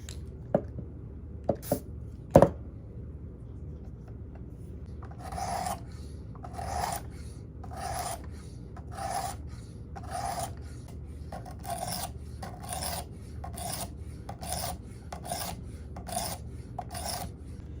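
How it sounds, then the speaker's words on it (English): A knife blade strokes back and forth on a 320 grit roughing stone lubricated with WD-40, giving a steady series of short, close raspy scrapes after a few light clicks at the start, with no talk. "we're going to start off first with a 320 roughing stone, and we're going to do both sides of the blade"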